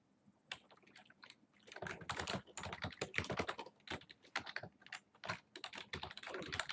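Dense, rapid typing on a computer keyboard while formatting a novel in a writing program, a steady run of close, crisp key clicks with brief pauses, with no talking.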